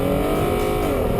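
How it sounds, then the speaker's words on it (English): A 2011 Lincoln MKX engine with retuned intake and exhaust growls loudly and steadily under hard acceleration, a close, continuous rising drone with no talking over it. "you still get a refined growl out of the engine."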